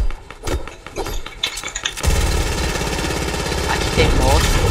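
Motorbike engine idling in a shooter video game, a steady buzzing rumble that begins abruptly partway through and holds under gunfire-like clatter, with talk over the first part.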